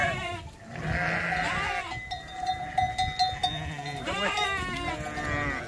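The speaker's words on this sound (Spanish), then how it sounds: "estas ovejas ya se están achuchando con estos corderos tan grandes" Sheep and their large lambs bleat insistently during weaning on a farm, a chorus of overlapping nearby and distant cries with a faint cowbell clank, no talk over them.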